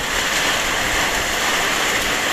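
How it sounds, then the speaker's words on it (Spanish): Heavy rain from a strong storm pours down in a steady, dense roar, loud and unbroken throughout with no voices. "Ha llegado una fuerte tormenta y va a arreciar, va a comenzar a llover más fuerte"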